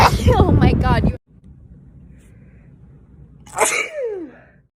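A woman sneezes once, loud and close, in an allergy fit. It comes a couple of seconds after she stops talking, and the sneeze tails off into a short breathy exhale.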